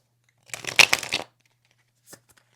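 Tarot cards are shuffled in one quick, close riffle lasting under a second, followed by a faint single tap, in an otherwise quiet room.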